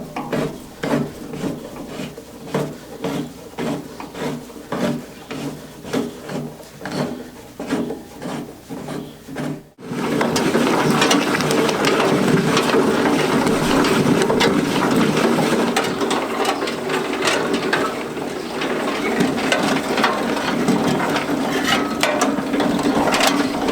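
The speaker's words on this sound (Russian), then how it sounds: "вот этот вот болт звездочки нужно затянуть, чтобы передать крутящий момент от звездочки на вал" Bolt on a sprocket of a walk-behind tractor potato planter being tightened with a ratchet, giving a run of steady, evenly spaced clicks up close, followed by a denser, continuous loud mechanical rasping and grinding.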